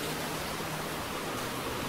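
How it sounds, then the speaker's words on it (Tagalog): Heavy rain falls outside an open window on an afternoon, a dense, steady hiss of broadband noise filling the whole stretch with no talking. "Medyo malakas yung ulan."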